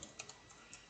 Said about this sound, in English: The faster I try and type, the worse I get.